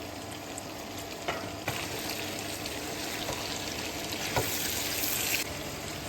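Onions, carrots and vegetables fry in a pan with a steady, moderately quiet sizzle, and a few sharper scrapes and clinks from stirring come through.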